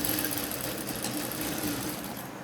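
A sewing machine stitches along folded cloth, with a steady, continuous mechanical whir running unbroken and fairly close.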